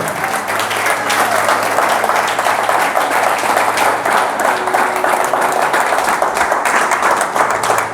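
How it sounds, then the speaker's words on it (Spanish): A congregation at an evening church service bursts into sustained applause, dense steady clapping from many hands filling the room for the whole stretch, with faint voices and cheers mixed in. "Denle un aplauso al Señor."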